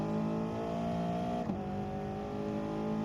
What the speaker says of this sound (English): You can see TJ doing a bit of a slipstream manoeuvre down the straight.